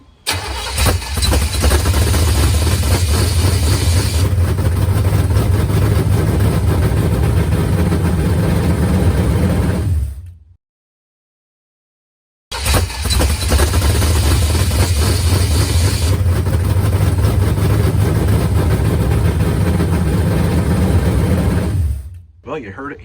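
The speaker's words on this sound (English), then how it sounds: "The project truck is alive. The motor started up." A project truck's engine runs loud and close at a rough, steady idle, cuts out abruptly to silence for about two seconds, then fires back up and keeps running before stopping again near the end.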